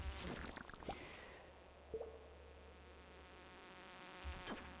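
Flies buzz faintly in a mine in Stardew Valley, a soft insect drone with a few brief game blips and chimes over a low steady hum.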